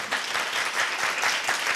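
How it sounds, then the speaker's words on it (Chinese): An audience at an international Chinese-language debate competition gives warm applause, a continuous, fairly even patter of many hands clapping, moderately loud with no voices over it. "让我们以热烈的掌声"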